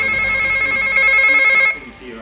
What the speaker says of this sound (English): The phone rings, and he instinctively knows who it is.